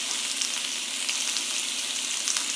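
Very small steaks searing in a hot pan give off a loud, steady sizzle and crackle that stays even and close throughout, with no voices over it.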